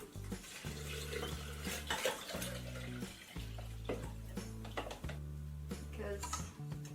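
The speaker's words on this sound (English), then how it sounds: "Okay, 1 cup of rolled oats. And this is 48 ounces of water." Water is poured into a blender jar holding rolled oats, an ongoing close splashing and gurgling pour with clattering kitchen sounds and some low background noise.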